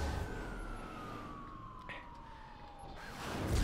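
A police car siren wails steadily in the Driver: San Francisco driving game, a long gliding tone above heavy engine and traffic rumble, with a brief crash-like burst near the end.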